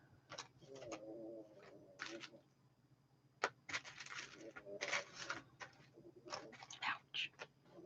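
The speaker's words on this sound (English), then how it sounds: "It's a bird." Soft bird cooing, likely from a pigeon or dove, in short repeated phrases mixed with faint whispering and small rustling clicks in a quiet room.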